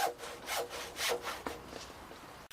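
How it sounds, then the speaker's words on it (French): A hand saw rasps back and forth through a wooden floor joist in steady strokes, close and loud, roughly five pulls with a final short stroke. "découpez-les à l'aide d'une scie circulaire, puis terminez à la scie égoïne."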